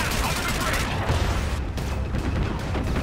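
Dense, sustained gunfire from the video game Call of Duty: Infinite Warfare, a loud continuous barrage of shots and booms filling the whole stretch with no pauses.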